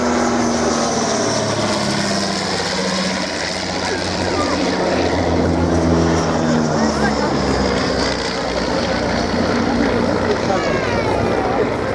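At the 2014 Shoreham Airshow, the propeller engines of a Dragonfly airliner drone loudly and steadily, with the noise of a large outdoor crowd beneath them.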